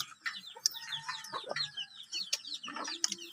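Chickens cluck and chatter busily while being fed, several birds calling close by in overlapping bursts, with a few sharper squawks among them.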